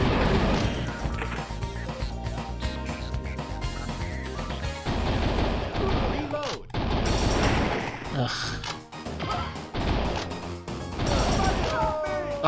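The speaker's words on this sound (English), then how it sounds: "Oh, grenade." Loud bursts and crashes of a grenade explosion amid rapid gunfire in a frantic shooter video game, dense overlapping impacts with a sharp blast in the middle, a voice talking over the action.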